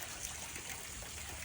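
Water flows in a small stream on a farm, a steady close trickle and gurgle with no talking.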